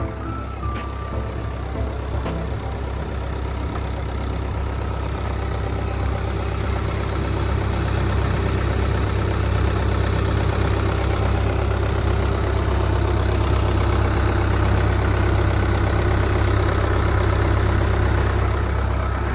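The big diesel engine of a Mitsubishi MF61WE road paver idles steadily for the whole stretch, a constant low rumble with a faint knocking texture and no voices.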